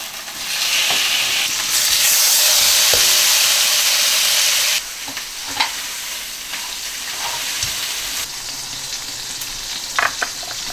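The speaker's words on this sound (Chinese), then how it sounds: "我们2个锅一起煎哈" A beef tomahawk steak frying in two pans at home, a loud steady sizzle that surges and then settles into softer spitting with occasional crackles.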